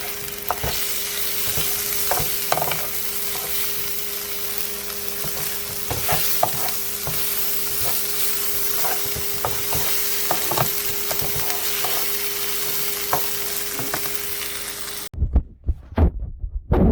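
Thai beef and sweet potato curry ingredients sizzle steadily in a hot pan as tongs toss them, with repeated clicks and scrapes over loud frying before the sound drops away abruptly near the end.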